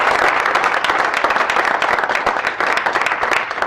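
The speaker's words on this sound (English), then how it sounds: "So give them a big round of applause." Loud, dense applause from a crowd at a Michigan business crowdfunding event in Lenawee County, a continuous close wash of clapping that holds steady throughout.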